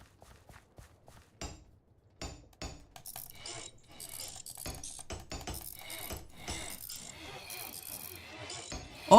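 Clicking, ratcheting mechanical gears and rotating machinery from a steampunk Create mod in Minecraft, with scattered sharp ticks and clanks at first, then a denser rising clatter of small metallic sounds.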